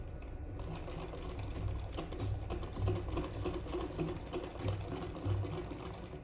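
Sewing machine stitching gown fabric with a loose stitch, running steadily with a busy, rhythmic whir and clatter that rises and falls slightly in bursts, alone without talk.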